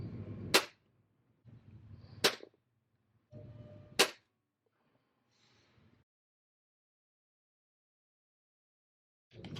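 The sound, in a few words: five shots from Browning Buck Mark air pistol, Crosman Premier pellets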